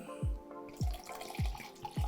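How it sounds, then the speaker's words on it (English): Vodka glugs out of a bottle into a cocktail in four rhythmic, evenly spaced gulps, each a deep hollow bloop, fairly close and on its own. "Let's add our vodka."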